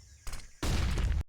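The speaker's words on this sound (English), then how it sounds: "see what happens out of these little pistols" Pistol fire in a Counter-Strike match: a short crack followed by a dense, loud burst of rapid shots lasting about half a second, ending abruptly.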